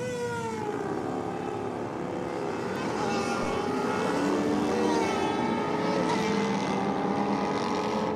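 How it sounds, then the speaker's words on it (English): Motorcycles race down a racetrack at high RPM, their engines a loud, continuous roar with rising and shifting tones that hold steady and slightly swell throughout, with no talk over them. "enjoying the sights and sounds of these bikes running down the racetrack"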